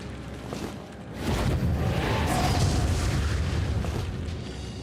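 A weapons of destruction attack lands in Mordheim: City of the Damned, a Khorne warband battle, giving a loud, sustained booming explosion that swells after a brief lull and rumbles on for several seconds.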